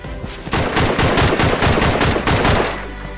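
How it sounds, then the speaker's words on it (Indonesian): Rapid bursts of automatic gunfire from a film shootout crackle in a loud, continuous stream of sharp repeated shots for about three seconds, with no voices. "Terjadilah baku tembak pada saat itu."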